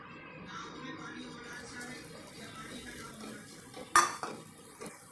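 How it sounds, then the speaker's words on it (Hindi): Coconut tipped into melted jaggery in a pan and stirred for ukadiche modak, with soft continuous scraping and clinking of utensil on metal and a sharper clatter near the end. "अब हम इसमें नारियल डालेंगे।"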